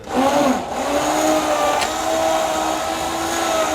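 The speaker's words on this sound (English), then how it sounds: "We're going to go ahead and puree these berries and the simple syrup that we've made from the wine" Small blender pureeing berries with a wine simple syrup, a loud steady whirring motor drone that holds on close and continuous, with a brief dip near the start.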